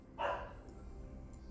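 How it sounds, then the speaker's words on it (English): A single dog barks once, faint and at a distance in another room, with a quiet background hum afterward. "Apologies for the dog in the background."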